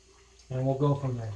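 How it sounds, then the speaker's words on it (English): Close by, a tap starts running water into a sink for wetting the face before a straight-razor shave, beginning partway through and continuing steadily to the end. "So let me get my face wet."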